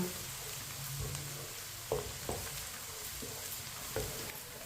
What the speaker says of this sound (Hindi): मीडियम आंच पर इसी तरह चम्मच लाते हुए हल्का सा ब्राउन कर लेंगे